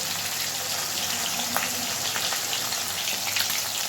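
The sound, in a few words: fish frying in oil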